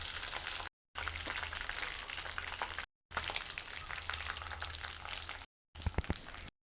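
Chicken dry-frying in hot oil crackles and sizzles in a busy, close stream, broken by a few short silent cuts, with sharper pops near the end.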